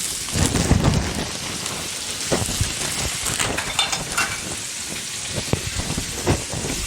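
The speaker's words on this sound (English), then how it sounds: "I'm going to saute this." Onions sautéing in vegetable oil in a pan give a steady, dense crackling sizzle that runs throughout, close and fairly loud, with no talking.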